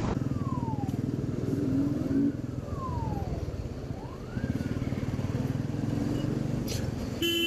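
A motorcycle engine idles and runs close by with a steady, throbbing low rumble. The pulsing holds across the whole stretch, with a brief dip midway before it picks up again.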